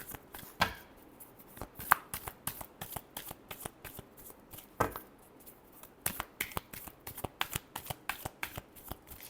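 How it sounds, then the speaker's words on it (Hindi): Tarot cards being shuffled by hand, a close, quiet run of crisp riffling slaps and flicks in an uneven rhythm, with no talking over it. "Last shuffle."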